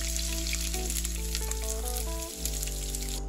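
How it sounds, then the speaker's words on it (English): Chopped garlic, green chili and onion sizzle steadily in a hot pan, a constant frying hiss under sustained background music with a brief dip near the end. "Cook them until they are golden brown"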